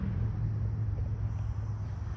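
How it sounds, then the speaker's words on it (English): Steady low rumble of nearby road traffic beside a nature preserve, a continuous moderate drone of passing cars with no distinct events. "Cars are getting loud again."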